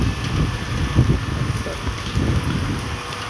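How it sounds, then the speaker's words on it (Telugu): Heavy monsoon rain pours steadily outdoors over a garden early in the season, a dense, continuous wash of noise with some low rumbling gusts and no voices. "ఇప్పుడు చూడండి ఎంత పెద్దగా పడుతుంది వర్షం"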